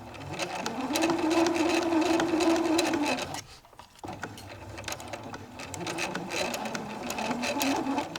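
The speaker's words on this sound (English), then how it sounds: "I'm just gonna go sew" A sewing machine stitches a wrap dress in close, rapid mechanical whirring bursts, pausing briefly midway before running again at a steady pace.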